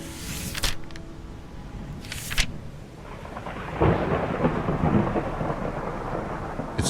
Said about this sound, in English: The wind whips the last leaves from the trees, and the thunder gives vent to the anger of the storm.